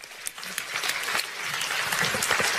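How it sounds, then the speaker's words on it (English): Audience at a leadership seminar bursts into applause, a dense, steady wash of many hands clapping that holds and grows slightly fuller across the stretch. "Give everybody a hand."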